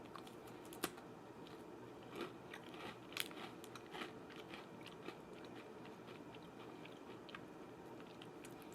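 Close, crisp crunches of a plain, sugary wheat cookie being bitten and chewed, with scattered sharp cracks and small crumbly clicks over a quiet background, and nobody speaking.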